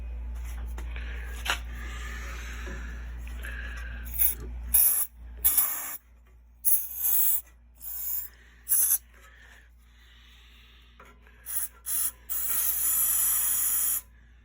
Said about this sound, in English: we're gonna throw a little bit of starter fluid in it